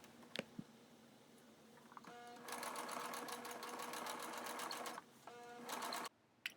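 Sewing machine stitching denim pockets together, a steady rapid mechanical whirr that starts around two seconds in, pauses briefly, resumes, and stops near the end, close and fairly loud with no talking.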